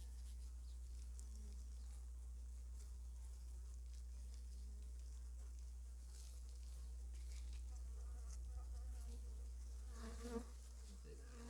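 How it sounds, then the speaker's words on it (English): Many bees hum in a steady, dense buzz from an opened beehive during a February inspection, soft and continuous, with a few louder passes close by. "That's a lot of bees."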